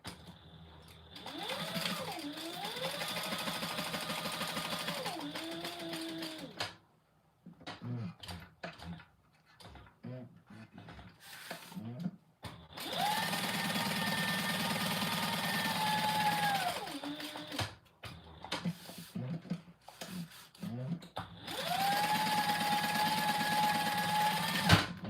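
Sewing machine stitching three sides of a compact clutch bag, running in three long steady bursts separated by pauses filled with fabric handling and small clicks, close and fairly loud.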